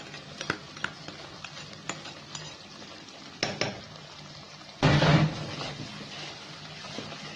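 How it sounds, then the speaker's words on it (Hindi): Semolina is poured slowly into hot syrup for halwa and stirred, with scattered scraping taps from a spoon, then a loud burst of sizzling bubbling as it hits the liquid, fading into steady frying. "और अब इसमें हम ये सूजी धीरे धीरे शिफ्ट करते रहेंगे और सारी सूजी हम डाल देंगे इसमें"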